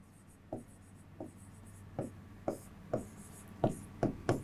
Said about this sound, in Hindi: तो लिखते हैं हम